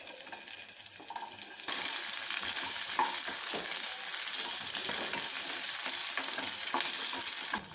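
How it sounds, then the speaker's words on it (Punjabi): Onion, dried red chillies and chopped garlic frying in a pan for masala dosa: a constant close sizzle with scraping stirs and small clinks, with no talking. "ਪਿਆਜ਼ ਨੂੰ ਬਹੁਤ ਜ਼ਿਆਦਾ ਬਰਾਊਨ ਨਹੀਂ ਕਰਨਾ 1 ਤੋਂ 2 ਮਿੰਟ ਲਈ ਇਹਨੂੰ ਭੁੰਨਣਾ ਹੈ"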